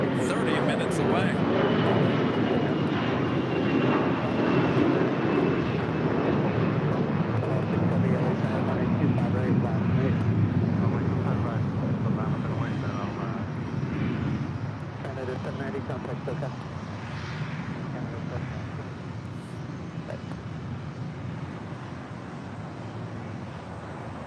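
Delta Airlines Boeing 757-200 jet arriving from Denver at LAX, a sports charter aircraft, with a loud, steady broadband engine roar that fills the whole clip and eases slightly in the second half, and voices talking beneath it.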